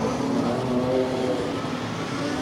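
Super sedan race cars launch off the start at Archerfield Speedway in 1998, a loud, rough, continuous roar of engines filling the whole moment with no voices over it.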